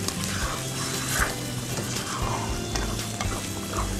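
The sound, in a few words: ingredients being stirred and cooked in a pan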